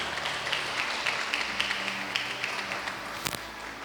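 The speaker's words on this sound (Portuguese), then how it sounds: "Aplauda Ele, glória a Deus." A church congregation claps in praise during a sermon, a soft, fairly rhythmic patter of hand claps that stays faint and steady throughout.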